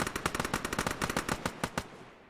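Rapid automatic gunfire in the military shooter Arma during a ShackTac squad operation: a steady string of sharp, close bursts for about two seconds that then stops abruptly, with no talking.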